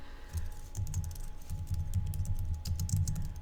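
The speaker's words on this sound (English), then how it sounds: "So I'm going to type that," Steady typing on a computer keyboard, a run of close, quick key clicks with a low hum underneath and no talking.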